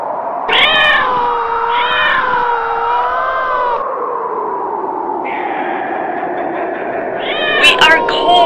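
Two giant cats meowing and caterwauling in long, wavering, drawn-out yowls that overlap and rise and fall, loud and close, with a sharper cry near the end.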